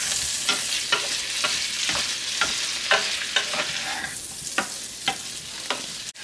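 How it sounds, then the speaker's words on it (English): Vegetables sautéing in melted butter in a pan, a steady close sizzle broken by regular scrapes and clatters of stirring about every half second, with no voices. "we will put our vegetables into the butter and just saute them"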